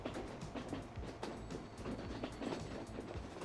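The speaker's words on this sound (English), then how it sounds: "As we go out of the train station." An ICE high-speed train pulls out of a station in the video game Transport Fever, giving a steady rolling rumble with rhythmic clicks of wheels over rail joints, loud and continuous throughout.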